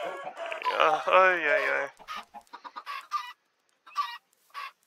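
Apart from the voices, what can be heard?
chickens clucking in a video game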